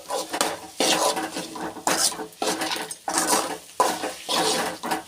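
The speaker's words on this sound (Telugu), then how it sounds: "ఆ మ్యాగీ ఇందులో వేసేసుకొని కలిపేసుకోవాలి ఒకసారి." Boiled Maggi noodles are mixed in a pan with a utensil, giving repeated scraping and stirring strokes about once a second with a faint sizzle underneath.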